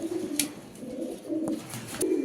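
Baby pigeons at a pigeon farm giving soft, low coos in short repeated bursts, close but fairly quiet, with a few faint clicks and no talking.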